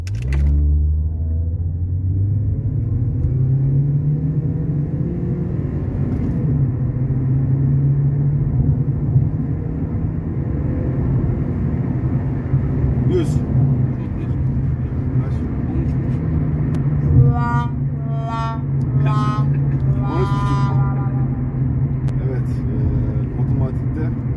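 A 2018 Toyota Corolla 1.6 Advance with manual gearbox, running on petrol-LPG, pulls hard in a 0-100 run, a continuous engine drone rising and shifting in pitch heard from inside the cabin, with people talking over it.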